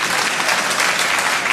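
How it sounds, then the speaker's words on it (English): Audience applause at the Royal Variety Performance: a dense, loud wash of clapping from a large theatre crowd, steady and continuous throughout. "I hope you're clapping for Mandela."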